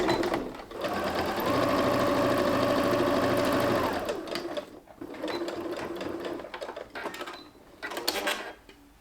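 A sewing machine runs in a steady, close whirring burst while understitching a seam on a baby romper, then stops and restarts in shorter, uneven runs with small pauses between.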